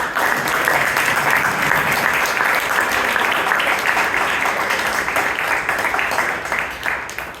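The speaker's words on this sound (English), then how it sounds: "now she deserves a big, big round of applause." Sustained applause from a large audience at a Toastmasters meeting in Bangalore, steady and dense clapping throughout, tapering off slightly at the end.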